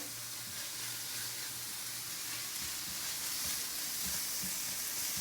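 Tofu and ginger stir fry crackling in a pan, a faint, even sizzle with light stirring that stays constant throughout with no voices.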